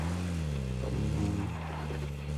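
An in-game vehicle engine from PUBG Mobile drones steadily up close, a low, even motor hum that rises slightly as it drives on, with no voices over it.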